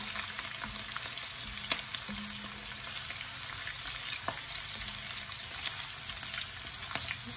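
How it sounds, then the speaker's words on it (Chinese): Curry leaves stir-fried in a wok for a Malay spicy red chicken give a steady, close hiss of sizzling oil with occasional sharp crackles and pops, and no voices. "跟住就係咖喱葉， 炒炒佢，爆一爆香佢啦"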